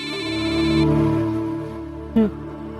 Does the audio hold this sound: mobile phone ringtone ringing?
yes